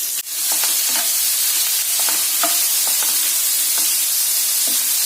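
Cauliflower pieces fry in a shallow layer of hot oil, giving a loud, continuous hissing sizzle close up, with soft scraping knocks from occasional stirring throughout.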